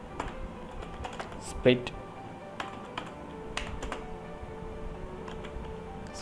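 Quick keystrokes on a computer keyboard while typing a search into a browser extension store, a few light taps with one sharper click, under brief speech.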